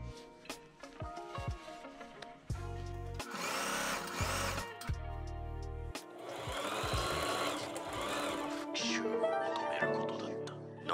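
Sewing machine stitching handmade denim pants, running in several bursts of steady mechanical whirring separated by short pauses and handling noises, fairly close and loud.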